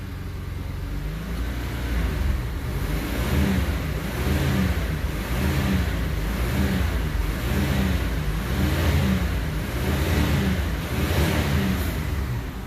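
A 1994 Isuzu Rodeo engine that runs poorly with a rich, sooty exhaust, revved repeatedly in steady waves of rising and falling engine note, loud and close with no talking.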